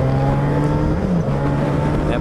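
A Yamaha YZF R3 motorcycle engine hums steadily and close, holding a sustained tone with a slight rise in pitch as it accelerates, accompanied by wind rush and a voice speaking over it.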